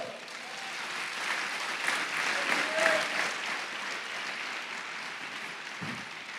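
A church congregation claps for several seconds, a dense, even wash of applause filling the room at moderate distance.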